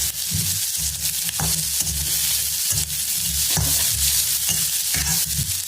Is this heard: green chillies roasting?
yes